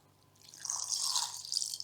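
Water is poured into a mixie blender jar holding two large, roughly chopped oranges, a short splashing trickle that swells and then tapers off, close and alone.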